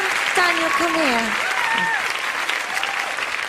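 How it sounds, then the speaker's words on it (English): Studio audience applause at a 2009 televised talent-show results broadcast, a steady dense roar of clapping with excited voices and whoops rising over it throughout. "big round of applause for Miss Frank."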